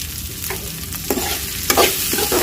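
Four sprigs of curry leaves, with a pinch of salt, fry over high flame in a pan, giving a close, steady sizzle broken by short scraping stirs.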